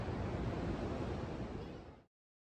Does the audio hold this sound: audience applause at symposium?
no